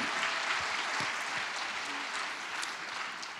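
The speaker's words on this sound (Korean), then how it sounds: "박수." Applause from a church congregation during a Bible lecture, a dense steady clatter of many hands filling the room for about three seconds, with no talking over it.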